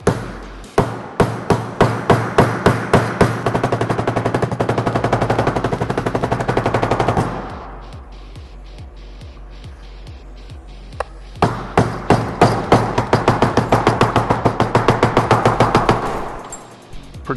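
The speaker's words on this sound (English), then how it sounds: "I have a nylon hammer that's not gonna do too much damage." A nylon hammer pounds a steel bird beak in rapid, evenly spaced ringing strikes, close and loud. A sparser, quieter stretch of taps in the middle separates two dense bursts of hammering.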